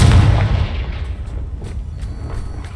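Confringo fire-blast spell going off in the Hogwarts Legacy video game: a loud, close burst at the start that fades into a rumbling, crackling tail.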